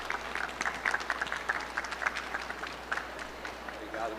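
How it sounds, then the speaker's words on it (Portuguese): Audience at a retail innovation conference applauds as an executive is welcomed onto the stage, a steady, moderately close run of hand claps with a soft voice beneath it. "recebam com um caloroso aplauso no nosso palco o diretor executivo da TOTVS, Eloy Assis."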